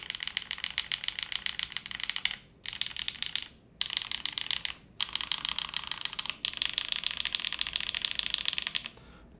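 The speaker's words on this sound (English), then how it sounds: "Very different on this with the O-ring, this side here." Fast clacking keystrokes on a Cloudline TKL mechanical keyboard fitted with O-rings, close and steady in bursts separated by short pauses, with no voices.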